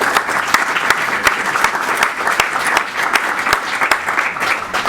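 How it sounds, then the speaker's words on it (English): Sustained audience applause at a media industry panel, a dense, steady clatter of many hands clapping at close range, continuing loudly with no break and no voices over it. "Let's give a big round of applause to Angela."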